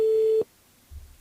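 A telephone line tone during a radio call-in show sounds as one steady, loud beep that cuts off abruptly after under half a second, followed by near silence and a faint low thump.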